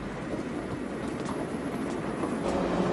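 A train speeds along an elevated track with a steady, continuous rumble and clatter of wheels on rails, close and even throughout with no voices.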